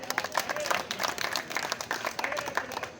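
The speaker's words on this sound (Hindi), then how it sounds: "ताली बजाइए।" Audience clapping at a Hindi poetry recital during a kavi sammelan, a brief burst of dense, moderately loud applause from a seated crowd.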